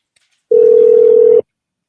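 A telephone dial tone sounds while a call is being placed, one steady, loud, unbroken tone lasting just under a second, starting and stopping abruptly with quiet before and after.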